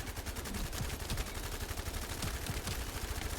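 Rapid automatic gunfire from a light machine gun in the video game The First Descendant, a dense continuous stream of shots with a steady crackling rhythm over the whole span, close and loud, with no talk.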